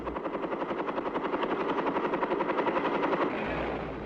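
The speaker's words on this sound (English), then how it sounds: "105mm howitzers are sling carried into the tactical zone by Chinook cargo helicopters." Chinook cargo helicopters sling-carrying 105mm howitzers, a loud steady rotor thump beating in a fast, even rhythm close by, fading slightly at the end.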